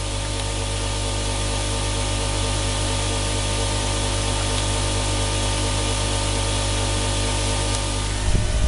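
A single-phase pulse motor generator runs on 18 volts DC at about 1.2 amps, near 3000 RPM, giving a steady, loud mechanical hum with constant tonal drone and broadband whir, unchanging throughout, with a brief clatter at the very end.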